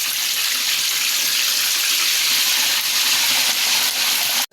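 Water is sprinkled over food as it cooks crispy in a pan, making a loud continuous hiss and sizzle that runs throughout, with no talking.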